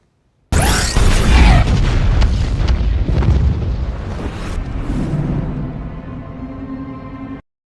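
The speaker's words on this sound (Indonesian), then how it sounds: "sebuah bom meledak dan menewaskan semua orang di gedung pengadilan tersebut kecuali Superman" A bomb exploding inside a courthouse in a Batman v Superman film scene: a sudden, loud blast that bursts out of silence, then rolls into a long, rumbling, debris-filled decay that slowly fades.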